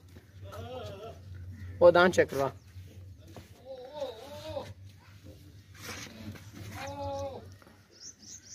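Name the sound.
goat bleating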